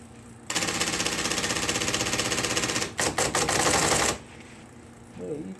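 A Korean Hangul typewriter rattles out a dense, rapid burst of key strikes for several seconds, pausing briefly before a last loud flurry, then falls quiet.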